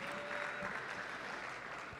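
Audience applause for a player at a FIFA esports tournament final, an even, moderately distant patter of clapping that carries on steadily for the full two seconds.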